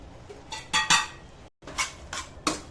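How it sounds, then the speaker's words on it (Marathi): A spoon stirs paneer biryani gravy with biryani masala in a metal pot, giving a handful of scraping clinks and knocks in uneven bursts, close by and with no talking. "चांगला मिक्स करून घ्यायची ग्रेव्ही"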